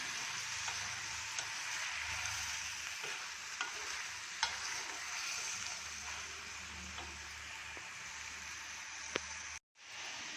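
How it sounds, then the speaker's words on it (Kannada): Onion, tomato and eggplant frying in a pan, a continuous close sizzle with scattered pops and stirring clicks, cut off briefly near the end. "ಇದೆಲ್ಲ ಮೆತ್ತಗೆ ಫ್ರೈ ಆಗಲಿ"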